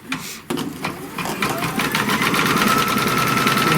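A Kimberbell embroidery machine stitches off placement crosshairs, its steady rapid mechanical whirring running close and continuous after a brief start, with a voice talking over it at first.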